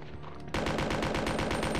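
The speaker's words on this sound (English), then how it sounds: "Taste machine gun." Rapid machine gun fire in the Resident Evil 2 video game, a loud unbroken burst of evenly spaced shots that starts abruptly after a brief quieter moment.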